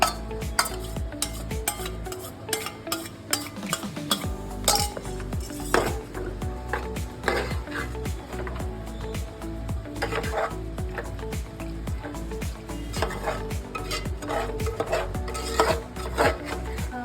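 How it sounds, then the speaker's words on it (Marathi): A spoon stirs and scrapes a roasted mixture in a metal pot, with steady rubbing, rasping strokes and light clinks repeating close by for the whole stretch, and no talking. "आता आपण हे जे मिश्रण पहिले भाजून थोडं घेतलं होतं ते यामध्ये मिक्स करणार आहोत."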